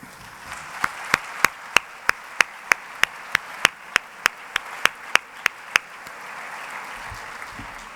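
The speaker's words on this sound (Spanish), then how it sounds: "el pueblo siempre aplaude" An audience claps in steady unison at a festival proclamation for the 2019 Albacete bullfighting fair, roughly seventeen sharp, evenly spaced beats before the clapping stops and a low murmur of the crowd remains.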